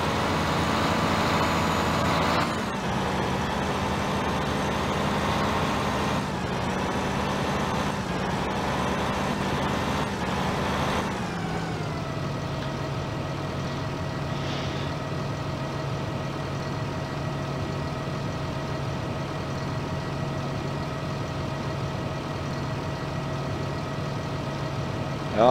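A Fendt 8350 combine harvester engine in the game Farming Simulator 2009 runs steadily with a tonal drone, shifting pitch a few times early on before settling into a continuous, even hum.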